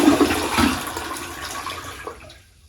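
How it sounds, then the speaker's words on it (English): A household toilet flushes after its tank was filled by hand from a bucket during a power outage, a loud close rush of water that fades and drains away to near silence with no refill hiss afterward. "the toilet flushed as designed"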